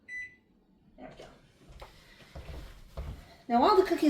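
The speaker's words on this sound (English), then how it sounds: "And set a timer for 10 minutes." An oven timer being set in a home kitchen, a short electronic beep followed by quiet button and handling noises while a person talks.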